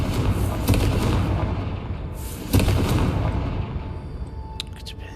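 In Hogwarts Legacy, the Confringo spell sets off loud, booming fiery blasts, with two sharp hits a couple of seconds apart over a rumbling background.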